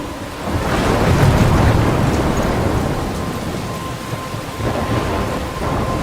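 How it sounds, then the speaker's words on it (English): Thunderstorm in the video game Life is Strange: heavy rain pours steadily while deep thunder rumbles and rolls in long, swelling waves, with no voices. "I'm trapped in a storm?"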